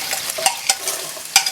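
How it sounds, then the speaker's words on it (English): A spoon stirs a Ghanaian okra stew of tomato, onion and garlic in a pot, scraping at an irregular rhythm over a steady sizzle from the pan, close and fairly loud. "I'll stir this around."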